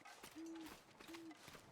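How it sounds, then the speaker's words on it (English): An owl in a video game gives two drawn-out, low hoots about half a second apart. The calls are faint and distant and stand alone against quiet ambience. "Not a stupid owl tricking us."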